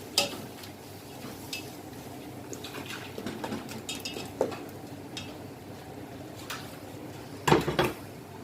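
Spices including cumin and turmeric being stirred into a biryani pot, metal spoon scraping and clinking against the pot in intermittent bursts, with a louder clatter near the end over a soft sizzling background.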